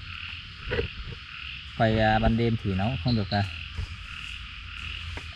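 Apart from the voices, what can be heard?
frog croaking at night in the rain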